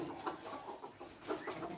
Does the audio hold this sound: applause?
no